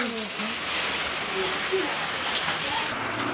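Steady hiss of rain falling, filling the whole stretch at an even level, with faint brief chirps and a murmuring voice in the background.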